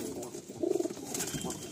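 A male Kalshira pigeon gives a clear, warbling coo of several quick pulses, close and distinct, amid light background noise with faint voices nearby.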